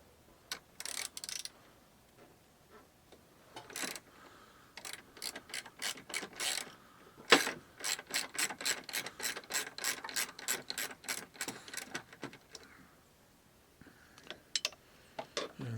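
A ratchet wrench works 10 mm bolts loose from the power steering reservoir of a 1994 Ford Probe GT, with close, crisp clicking in short bursts and then a long run of rapid, even clicks.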